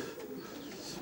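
Pigeons coo softly inside a breeder's loft housing Hungarian giant feather-footed pigeons, a low, continuous murmur of cooing at a moderate distance.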